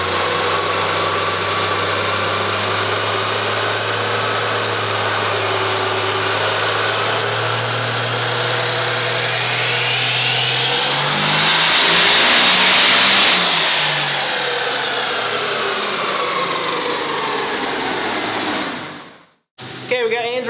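A Cummins 12V diesel pickup truck engine, twin-turbo, runs loud and steady on a dyno, revs up sharply to a peak, then winds down before cutting off abruptly.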